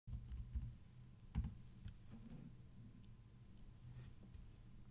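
Faint, sparse keystrokes on a computer keyboard while an email address is entered, a few soft irregular clicks over a low background hum.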